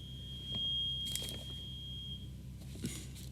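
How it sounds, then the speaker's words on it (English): A household alarm sounds as a steady, faint high-pitched electronic tone lasting a couple of seconds, with a few soft knocks and rustles around it in a quiet room. "that was like an alarm in my house"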